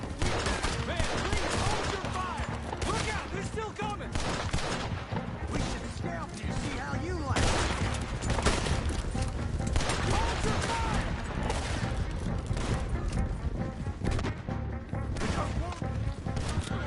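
Shotgun blasts in Red Dead Redemption 2, a dense barrage of repeated gunfire running steadily throughout, loud and busy, with talk mixed in under the shots.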